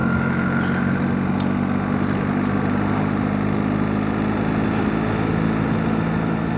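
A motorcycle rides on new tyres, its engine droning steadily and loudly with the rush of wind and road, and no talk over it.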